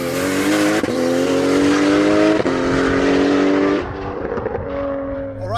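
A 955 bhp Nissan R33 GTR with a sequential gearbox revs hard and loud close by, its engine note climbing through several sharp gear changes before easing off, with some tyre noise.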